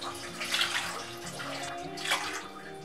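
Water is poured from a coffee cup into washed rice in a pot, a soft close splashing trickle with two brief fuller gushes, quiet and alone.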